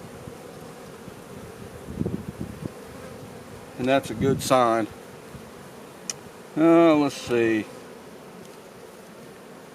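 Bees hum around an opened hive during a queen search, a faint, steady insect drone under intermittent speech and a few rustling handling noises close by.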